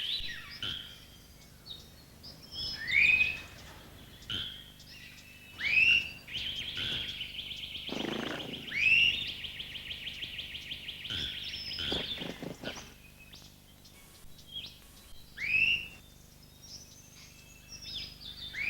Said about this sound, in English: Its call is quite loud and strident, as grass finch calls go